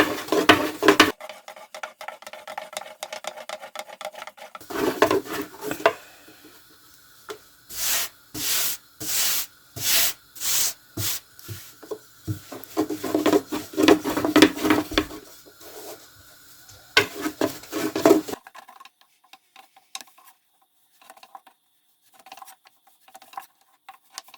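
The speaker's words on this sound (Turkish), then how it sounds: "Üstüne de elimizi şöyle bastırarak açmaya başlayabiliriz." Hand-pressed lahmacun dough being rolled out on a floured surface, a series of soft rhythmic patting and pressing sounds, close and moderately loud, with brief pauses and no talk.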